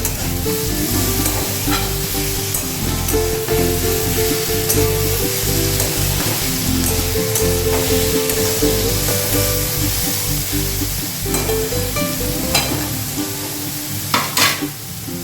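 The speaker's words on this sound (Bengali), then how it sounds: "ভাজা ভাজা হয়ে যাক, একটু লালচে মতো, তারপরে ফিরে আসছি।" Vegetables fry hard in a pan for a Bengali vegetable dish before grated coconut goes in, a loud, steady sizzle running throughout with occasional scraping stirs and clinks close by.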